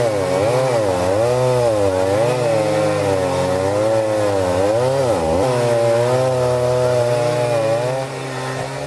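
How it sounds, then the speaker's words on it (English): Chainsaws cut a fallen tree off a van roof. The engine snarls loudly and close, its pitch rising and falling as the chain bites into the wood, with a short dip near the end. "When a tree chooses your car as its landing spot, there's only one solution. Call the chainsaws."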